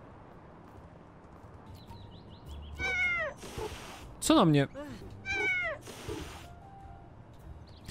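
Video game cat in Little Kitty, Big City meowing several times, short clear mews in quick succession, while a person talks over the game audio.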